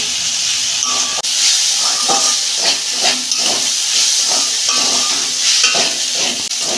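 Okra frying with a spice paste in a pan, a steady close hissing sizzle that runs throughout with faint intermittent clinks and stirs.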